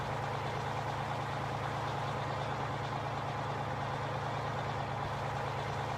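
Truck engine from Farming Simulator 15 driving steadily, a continuous low drone with a constant hum, alone and fairly quiet.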